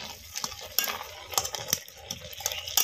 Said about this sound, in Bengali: কচু শাকটা এভাবে গলিয়ে দেব